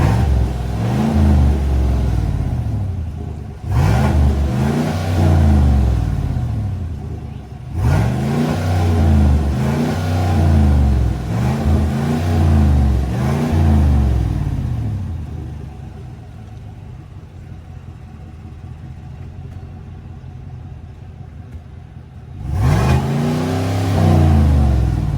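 A 2019 Chevrolet Silverado pickup with a newly installed B2 Fabrication muffler revs repeatedly up close, each rev rising and falling in loud bursts, with a stretch of lower idling before a final rev.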